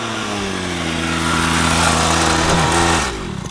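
A small 50cc Temu dirt bike engine runs loud and close, a buzzing high-pitched drone that holds steady, rises slightly in pitch, then drops off near the end.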